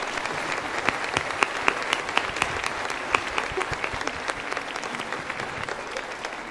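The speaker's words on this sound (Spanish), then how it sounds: "Por favor, un aplauso" Audience applause at a live concert, dense steady clapping from a crowd filling the space for several seconds with no talk over it.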